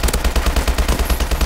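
An ASM1 gun in a video game fires in a quick, even automatic burst of about a dozen sharp shots, loud and close.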